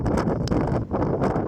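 Cold wind gusts steadily across the observation tower atop Clingmans Dome, a loud rushing roar buffeting the microphone with surges and brief dips, no voices present.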